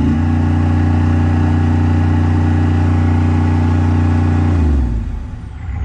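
A Chevrolet 6.5L diesel engine held at high revs against its rev limiter produces a loud, steady, droning harmonic roar for about five seconds, then drops off sharply as the revs fall.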